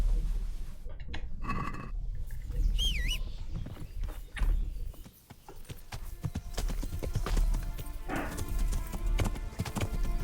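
A horse in the medieval video game Kingdom Come Deliverance walks, its hooves clip-clopping in a steady, close rhythm, with a brief whinny and faint birdsong in the background.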